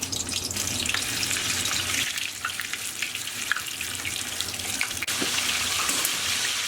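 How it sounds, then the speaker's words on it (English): Eggplants fry in hot oil in a pan, giving a soft, steady sizzling hiss with scattered small pops and crackles. It stays quiet and even throughout, with no one speaking. "all we're doing pretty much is frying these for about 3 to 4 minutes on each side until they're nice and golden brown"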